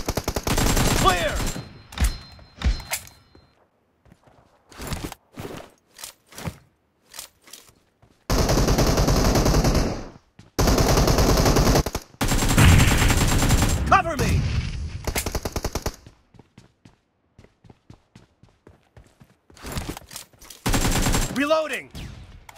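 Machine guns fire in a video game team deathmatch, with rapid bursts of automatic gunfire, some long and sustained, separated by short pauses and quieter gaps, loud and close throughout.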